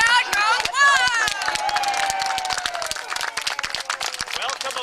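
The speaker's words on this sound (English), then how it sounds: "And the crowd goes wild!" A library audience cheers and claps, a dense burst of clapping mixed with whoops and shouts that carries on steadily under a sustained vocal cheer.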